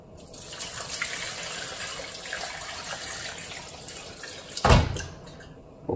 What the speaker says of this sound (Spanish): Voy a echar su agua.